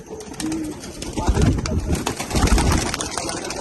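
Pigeons from a keeper's new collection coo in a low, rumbling murmur that swells and repeats across a loud, busy background, with people talking nearby.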